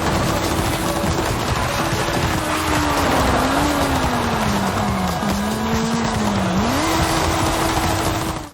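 A 1965 Peel Trident three-wheeler in Forza Horizon 5 drones steadily up close, its buzzing engine note rising and dipping through shifts and throttle changes with faint tire noise, no talking.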